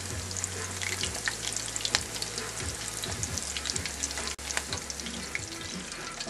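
Thin chicken schnitzel cutlets frying in a pan, giving a steady crackling sizzle with scattered pops and spits, fairly close and uninterrupted, with a low hum underneath.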